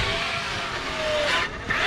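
Traxxas X-Maxx RC truck driving across a skate park, a steady buzzing electric motor whine that shifts pitch near the end as the brakes are hit hard.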